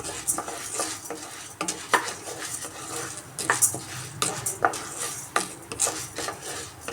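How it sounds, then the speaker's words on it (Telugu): Curry leaf powder ingredients fry on a low flame, with a spoon scraping and stirring rapidly through the pan in busy, repeated strokes over a soft sizzle, close up and without speech. "లో ఫ్లేమ్లో మనము ఫ్రై చేసుకోవాలండి పచ్చి వాసన పోయే వరకు"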